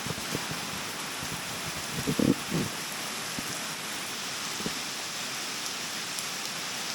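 Steady rain falls on Gili Air island, a broad even wash of drops with a few louder nearby patters and knocks, no talking.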